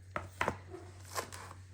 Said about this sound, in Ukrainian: У мене пір'єва зелена цибулька, ріжемо просто міленько.